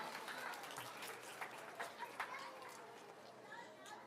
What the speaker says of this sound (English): Let's give him a round of applause as he goes back to his seat.